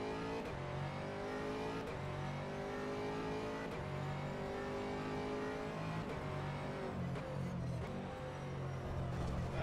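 Race cars in rFactor 2, an Audi among them, drone through a continuous engine roar with shifting revs and gear changes, steady and fairly close, with no talk.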